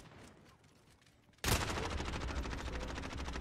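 Video game gunfire in Call of Duty, a dense burst of rapid shots that starts suddenly after a quieter lead-in and then holds steady and loud to the end, with no talking.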